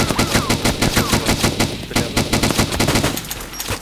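Rapid bursts of automatic gunfire in a video game, fired at a target inside a fire station, loud and continuous, fading out near the end.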